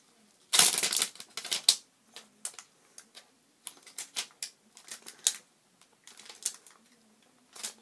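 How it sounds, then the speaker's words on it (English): Plastic wrap being peeled and crinkled off a new Xbox One Kinect sensor during unboxing, a burst of loud crackling followed by scattered rustles and crinkles, close by with no talking. "Let me remove the plastic and show you guys how it looks."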